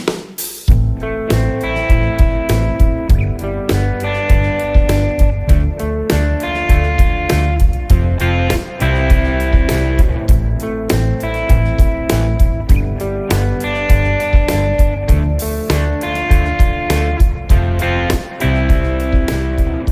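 Distorted guitar strums chords in a steady rhythm over a full backing track with drums and bass, loud and continuous throughout.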